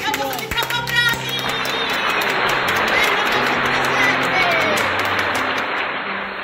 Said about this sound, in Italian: Facciamoci un applauso!